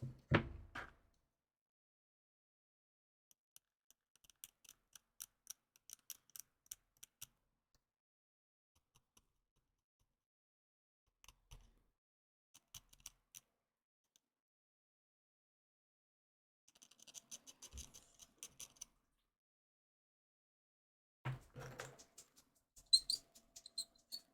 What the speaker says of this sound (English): The glass file is making a little squeaky noise.